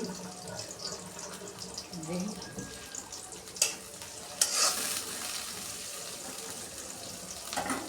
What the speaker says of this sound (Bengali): টমেটো চাটনি করবো, তাই পেঁয়াজ দিয়ে দিলাম, কাঁচামরিচ দিয়ে দিচ্ছি।